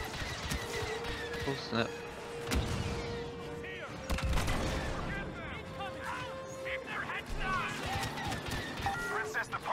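Blaster gunfire in a Star Wars Battlefront II campaign battle at a palace gate, sharp zapping bolts in scattered bursts and volleys, with voices talking and a man exclaiming in between.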